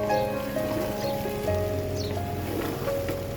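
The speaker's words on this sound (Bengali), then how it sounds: "দেখো বাহিরে মেঘলা, মেঘাচ্ছন্ন বৃষ্টি," Rain falling outside on a cloudy, overcast day, a steady soft patter of drops on surfaces, fairly close and even, mixed with some faint tonal household noise and no speech.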